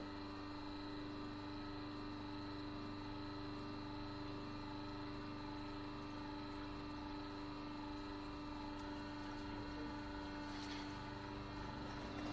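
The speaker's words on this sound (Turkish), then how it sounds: "Hidrolik sistem çalışıyor ve preslemeye başladık." A hydraulic fruit juice press machine runs while pressing, giving a steady, faint mechanical hum and drone with a constant tonal whine throughout and no speech.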